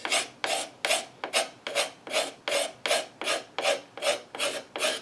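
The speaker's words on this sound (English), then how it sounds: "you have to watch the direction while you're using the scraper blade" A steel scraper blade rasps along a wooden chair leg being shaped, in about a dozen steady, rhythmic strokes, each a bright, close scraping pass followed by a brief pause.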